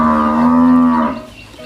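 A single cow on a Thai cattle farm gives one loud, close, sustained moo that fades at the end, with no talk around it.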